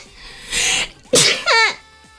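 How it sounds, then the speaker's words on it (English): A single person sneezes indoors: a breathy intake builds, then a sharp, loud burst follows with a short voiced tail, close to the microphone. "Sorry, I had to sneeze."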